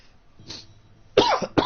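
A single person coughing, a faint breathy rasp early on followed by two sharp, close coughs near the end, the second shorter than the first, in an otherwise quiet room.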